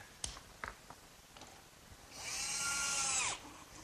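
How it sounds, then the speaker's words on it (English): An electric jigsaw cuts a slot in wood for a workbench, a faint, brief whining buzz lasting about a second after a few quiet knocks and clicks. "my electric jigsaw sure makes quick work of finishing up that slot"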